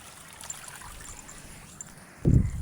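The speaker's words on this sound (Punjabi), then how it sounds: "ਖੜੇ ਦਾ ਪਾਣੀ ਚੱਲ ਰਿਹਾ ਮੀਂਹ ਦਾ ਪਾਣੀ ਆ" Rainwater runs outdoors in a faint, steady trickle during a rainy day, ending with a louder, brief rustling thump close by.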